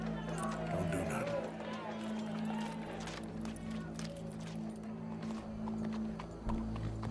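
Horse hooves clip-clopping at a steady run in Red Dead Redemption 2, a continuous rhythmic patter beneath a low droning game soundtrack.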